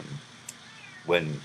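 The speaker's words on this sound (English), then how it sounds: "if you can hear that, that's my cat." A short cat meow sounds near the end, right after a brief spoken word.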